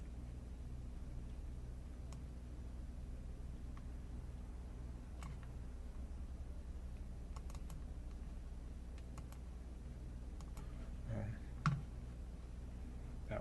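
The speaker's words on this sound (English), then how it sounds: "So let's click on that." A computer mouse gives a few faint, sharp single clicks spread across a quiet room with steady low background hum.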